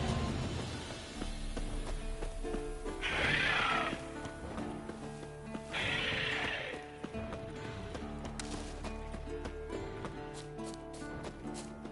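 Two loud horse whinnies ring out a few seconds apart over a dense soundtrack of music and rumbling effects in The Witcher 3 on PS5.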